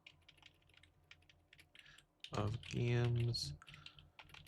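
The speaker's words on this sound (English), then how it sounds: "Why is my keyboard struggling so much?" Computer keyboard typing during a gaming stream: a steady run of fast, light key clicks, close and fairly loud at times, with a person talking over parts of it.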